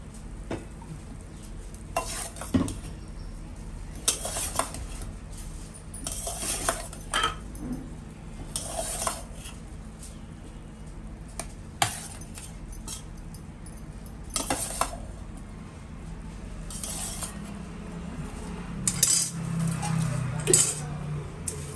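A spoon stirs and mixes leftover rice pulihora in a pan, with sporadic metallic scrapes and clinks against the pan over a faint background sizzle, close by.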